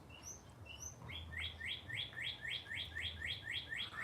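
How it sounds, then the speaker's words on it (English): Birds chirp outdoors in quick repeated bursts, high bright tweets that start sparse and then run as a steady rhythmic series, fairly close but quiet, over low background hum. "Birds are loud today."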